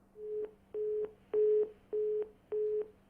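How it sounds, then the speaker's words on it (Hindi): A telephone line's disconnected tone: a steady series of five evenly spaced, identical electronic beeps with the start of a sixth, each about half a second long, clear and alone with no talking. "फोन डिस्कनेक्ट हो गया। और ये टू टू टू की जो आवाज है"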